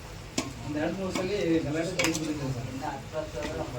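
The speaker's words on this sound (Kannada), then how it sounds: "ಈಗ ಅದನ್ನು ಸ್ವಲ್ಪ ಎಣ್ಣೆಗೆ ಫ್ರೈ ಮಾಡ್ಕೊಳ್ತಾ ಇರೋದು" Turmeric powder fries in a little oil for a fish curry, a soft sizzle with occasional utensil clinks against the pot, heard close under a voice speaking throughout.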